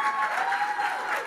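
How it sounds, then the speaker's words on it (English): An audience at Ake Festival in Nigeria applauds four women, a dense, steady wash of clapping from a crowd, fairly loud and unbroken across the short moment. "let's give these 4 incredible women a proper Ake"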